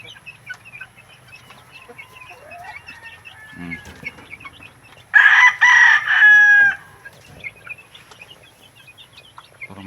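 Chickens and chicks on a farm: a loud rooster crow stands out in the middle, surrounded by softer clucking and chirping, with a few knocks in the background.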